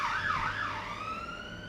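Emergency vehicle sirens wail as they pass outside, a rising and falling tone that then settles into a steady pitch. The sound is moderately faint and carries no speech.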